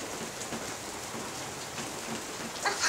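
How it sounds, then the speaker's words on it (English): Steady rain hisses down during a rainstorm, a continuous dense wash of drops on surfaces with no voices, holding level throughout. "It's raining."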